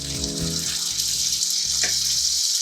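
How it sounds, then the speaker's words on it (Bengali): Water used to rinse spices is poured into masala frying with turmeric, chilli powder and salt for a Bombay duck curry. It makes a gushing, hissing sizzle over a low droning hum, close and continuous. "দিয়ে দিচ্ছি মশলা ধোয়ার জল"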